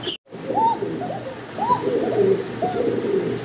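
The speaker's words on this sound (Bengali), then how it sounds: "কোকার ডাক শোনা দিয়েছি আপনাদেরকে" Almond-coloured Arabian Koka pigeon cooing in a series of rolling, repeated coos, close and clear over a steady low hum, after a brief dropout at the start.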